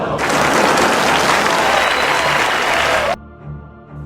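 An audience applauds a stage play performance, dense sustained clapping that starts abruptly and cuts off after about three seconds, leaving a quiet hum.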